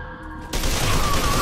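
A sudden loud burst of rapid gunfire from the shooter game Fear 2 erupts after a quiet half second and continues as a dense, continuous rattle to the end.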